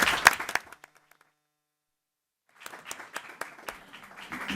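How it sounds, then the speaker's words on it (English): An audience at a League of Women Voters local history gathering claps in scattered bursts that fade out, fall silent for over a second, then resume as irregular, fairly close applause. "I'd like to take this opportunity to give them a round of applause"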